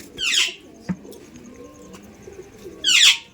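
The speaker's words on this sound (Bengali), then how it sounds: "পায়রাটা ভালো করে দেখুন পায়রা কিন্তু ভাইব্রেশন দিচ্ছে ওই দেখুন গলা কাঁপাচ্ছে" A Giribaz pigeon coos softly in a loft with many pigeons, a low throaty murmur repeating throughout, broken by two sharp, loud bursts near the start and end.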